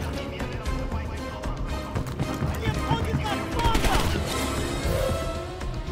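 Scattered gunfire in Call of Duty: Black Ops Cold War, repeated sharp shots and bursts mixed with game noise at a moderate level, with a voice talking over them.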